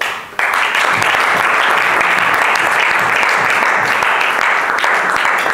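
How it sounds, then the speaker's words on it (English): Applause erupts abruptly from a Toastmasters club audience at a Friday meeting in Rwanda, dense steady clapping that stays loud and close for several seconds after a brief quieter lead-in. "he needs a round of applause."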